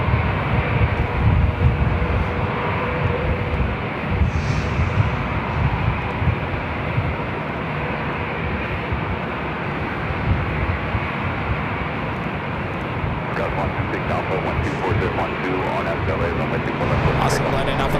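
A Viva Airbus A320 takes off at LAX, its jet engines a broad, steady roar that holds loud for the whole stretch with no letup.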